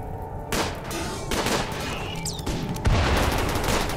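Gunfire and explosions from a battle in the video game RimWorld, with a blast of inferno cannon fire: bursts of shots and booms follow one another over four seconds, sharp and close, with no talk.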